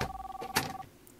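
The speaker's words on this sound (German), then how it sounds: "Oh, das klingelt das Telefon." A telephone rings in the video game The Long Reach, a short electronic ring with steady tones that stops after under a second, then a brief tail of quiet room noise.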